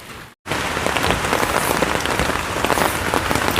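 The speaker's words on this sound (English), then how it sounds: "it's starting to come down. I'm gonna get out of this rain." Heavy rain pours down steadily at a campsite ahead of a thunderstorm, pattering loudly on a nearby surface after a brief moment of silence.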